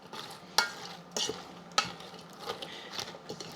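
Beer-braised cabbage and sausage being stirred in a Ninja Foodi pot, a spoon scraping and knocking against the sides in a few sharp clacks over a soft, steady sizzle, close and without talk.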